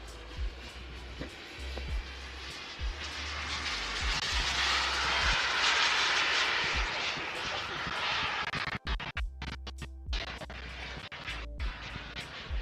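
Radio-controlled turbine jet model aircraft flying at an outdoor wing show, a sustained engine roar swelling and fading as it passes, with a voice talking over it.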